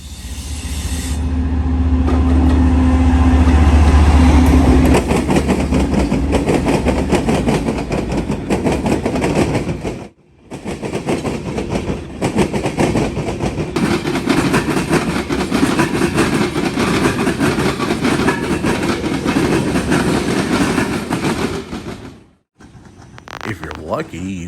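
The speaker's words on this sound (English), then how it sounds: "This is a manifest out of Winston-Salem, North Carolina to Bellevue, Ohio." Norfolk Southern manifest freight train 19W, led by BNSF GE locomotives, rolls past loud and close with steady wheel rumble, rail clatter and brief squeal, a deep engine drone at the start and the noise cutting out abruptly near the end.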